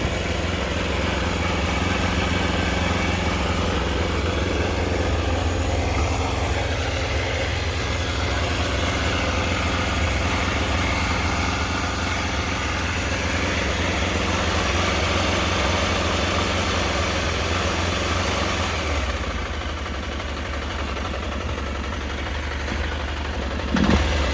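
A Triumph Trophy motorcycle engine idles with a loose, rattling mechanical clatter, steady and close for the whole stretch, with no one talking over it.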